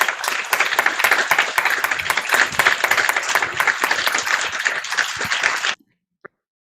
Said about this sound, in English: Give everyone a nice round of applause.